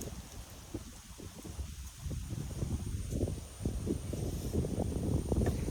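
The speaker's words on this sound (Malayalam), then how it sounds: "നല്ല കാറ്റും" Steady outdoor wind blowing with a rough, gusty rumble that builds slightly toward the end, alone with no voices.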